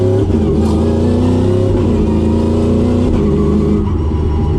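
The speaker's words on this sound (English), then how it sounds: "So that's got shift cut on the up changes and auto blip on the down changes." Sequential-gearbox work truck accelerates hard with a loud, close engine drone, short shift-cut interruptions on the upshifts and throttle blips on the downshifts, with no speech over it.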